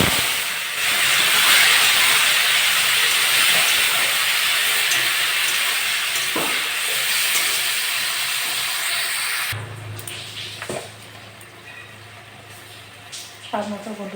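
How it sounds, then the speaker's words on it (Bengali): Tomatoes hit hot oil seasoned with five-spice and give a loud, broad sizzle that slowly eases over about ten seconds, then drops to a quieter crackle with a few clinks. "আমি এবার টমেটোগুলো দিয়ে দেবো।"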